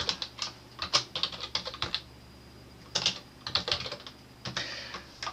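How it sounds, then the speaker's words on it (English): Fingers tap out an email address on a computer keyboard, close and clear, in two quick runs of keystrokes separated by a short pause. "type the email address or the name of the person that you wish to send the pictures to"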